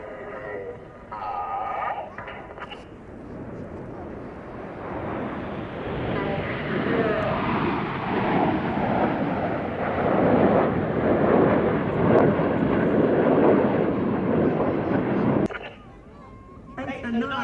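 Red Arrows display team jets flying in formation at an air festival, a loud sustained jet roar that swells and holds steady before cutting away, with a commentator talking.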